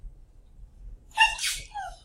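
A single sharp sneeze bursts out in a quiet classroom after a lecture, preceded by a faint intake of breath and followed by a short exhale, close and distinct against low room hum.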